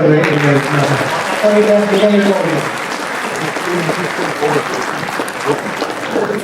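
An audience at an anniversary event bursts into applause, loud at first and then thinning out, with voices and music audible over the start.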